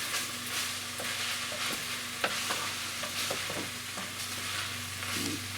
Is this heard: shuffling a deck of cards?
no